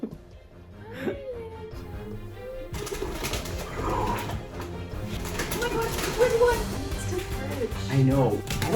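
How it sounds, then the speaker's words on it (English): A pet pigeon indoors gives soft, low coos while people nearby talk excitedly and laugh, the cooing coming in short bursts under the voices. "there's a bird in here."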